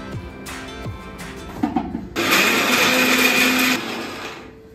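A kitchen blender grinds chopped cauliflower and carrot with no water added, a loud continuous whirring burst after a few clunks of pieces dropping in, then winding down.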